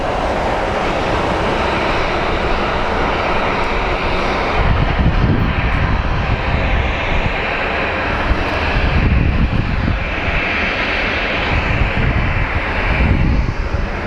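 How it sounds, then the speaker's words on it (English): Southwest Airlines jet taxiing at Phoenix Sky Harbor International Airport, a loud continuous engine roar and whine with a few swelling surges, close by and without talk. "We can get a close-up of that Southwest taxiing."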